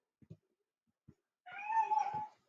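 A cat gives one clear, close meow after a few soft taps and rustles, with no talking.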